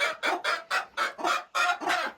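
Chickens clucking inside a homestead coop bedded with pine shavings, several bantams among them, giving a close, steady run of about eight loud clucks in an even rhythm, with no talking.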